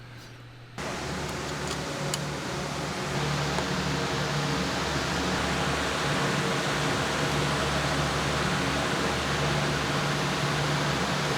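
Three huge air conditioning units serving a whole property drone with a steady, broad mechanical hum that starts abruptly and then holds at an even level throughout.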